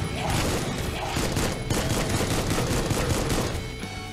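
A shotgun blasting in the retro shooter Supplice, amid a dense stream of rapid gunfire and explosive booms that carries on loudly for several seconds over other game noise.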